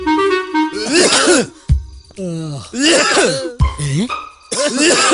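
Harsh repeated coughing and throat-clearing mixed with groans from a Malayalam film scene, loud and close, with several sharp bursts.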